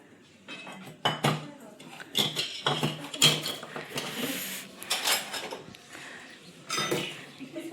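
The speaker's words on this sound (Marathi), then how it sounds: "बघा स्वयंपाक चालू आहे." Home kitchen cooking brings repeated clanks of steel pots, utensils and cutlery, loud and close, in irregular bursts with quieter pauses between them.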